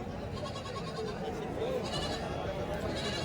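Several Kathiyawadi goats bleat at varying distances amid a busy crowd murmur at a goat market in Chalisgaon, with overlapping voices talking in the background.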